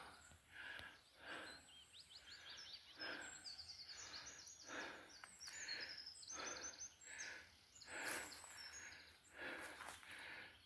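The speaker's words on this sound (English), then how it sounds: "I just sat up there listening to birds singing away." Birds sing and chirp repeatedly in the distance in the Peak District countryside, bright trilling phrases over a quiet outdoor background, with no one speaking.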